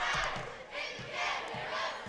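Loud crowd cheering from a school student section at a girls basketball game, bursts of shouting rising and falling in quick waves close by.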